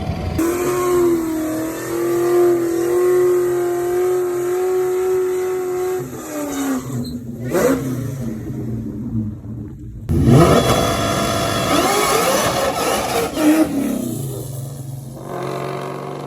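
A drag race car chasing eight-second passes launches down the strip, its engine screaming loud and close through rising revs, then cutting out abruptly as the tires shake, before another hard, roaring burst of throttle.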